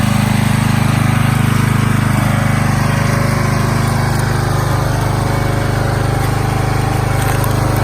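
A small engine on a firewood log splitter runs at low throttle, making a loud, steady drone that continues unbroken throughout with no voices.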